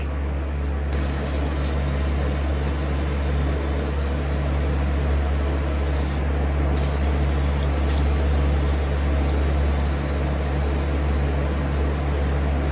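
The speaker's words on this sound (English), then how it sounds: "seal in the wet red paint, just with some spray shellac" A steady, loud hiss of an aerosol can spraying shellac over wet red paint on MDF board, running almost continuously, with two short pauses, close by and without any talking.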